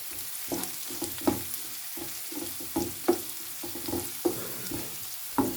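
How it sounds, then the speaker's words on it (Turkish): Steady frying sizzle of onions sautéing in a pan, with a stirring utensil scraping and tapping the pan every second or so, close and continuous. "Şöyle soğanımızı kavuruyoruz."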